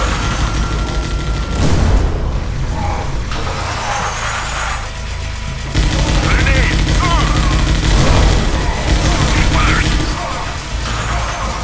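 Machine gun fire crackles in the video game Scourge Outbreak, dense rapid bursts over a loud busy game mix that continues throughout with brief lulls.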